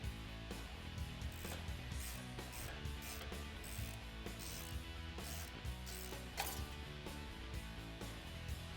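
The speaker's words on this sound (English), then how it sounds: "Then we can take our 19mm socket and continue to loosen up the castle nut." A ratchet on a 19mm socket loosens a castle nut on a Toyota Tacoma front suspension, giving rapid repeated pawl clicks in uneven bursts, close and fairly quiet.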